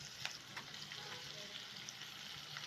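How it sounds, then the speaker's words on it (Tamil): Tomatoes and onions sautéing in a pan for a chicken gravy give a quiet, steady sizzle with faint crackles and occasional stirring scrapes, no voices. "தக்காளி சேர்த்து நல்லா வதக்கிடுங்க."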